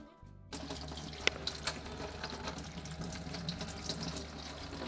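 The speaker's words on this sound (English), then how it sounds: "using a strainer, rinse the soaked almonds in clean water." Soaked almonds are rinsed in a strainer under running tap water, a steady close splashing rush that starts abruptly after a brief quiet moment and keeps flowing, with a few sharp clinks against the sink.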